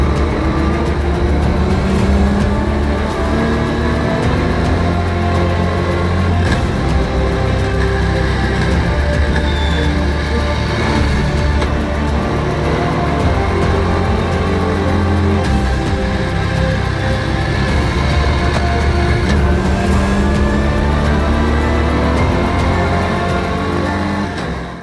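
A Ginetta G56 GTA race car is pushed hard around a track, its engine droning loudly and without a break, with pitch sweeping up and down through gear changes, heard close from onboard.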